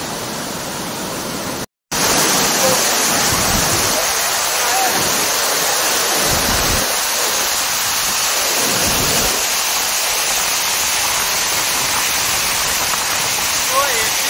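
A loud, steady rush of water from Bhatinda Falls fills the air without letup, broken only by a brief silent gap near the start.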